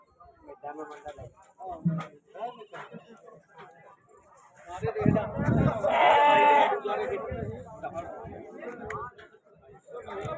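Goats bleat loudly and repeatedly at a goat market in Mullanpur Dakha, Ludhiana district, with one long close bleat amid steady chatter and bargaining voices.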